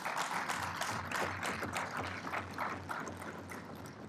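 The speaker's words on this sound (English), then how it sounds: "I think you can clap louder than this." An audience in a parliament chamber claps at the official opening of a session, a steady, moderately faint patter of many hands that carries on throughout.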